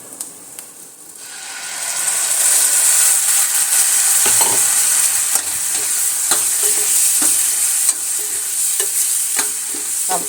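Tomatoes sizzle in masala with kasuri methi in a pan on a gas stove turned low, a steady bright frying hiss with a spoon scraping and clinking now and then, close and loud, with no talking.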